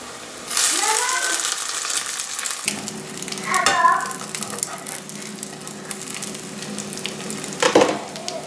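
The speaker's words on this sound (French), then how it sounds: "je prends ma galette et je la mets à cuire" A stuffed galette filled with cheese, egg and chicken is laid in a pan on the stove and fries with a bright, loud hiss that settles into a steady sizzle, with a voice briefly heard over it.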